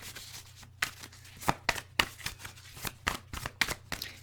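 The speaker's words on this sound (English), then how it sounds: "Three more shuffles." Tarot cards shuffled by hand in a quiet room for a reading, a run of crisp riffling bursts and soft slaps recurring roughly every half second over a low steady hum.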